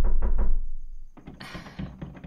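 A few heavy knocks on a door, deep and close, followed by a brighter thud and a scrape after a short pause, with no voices.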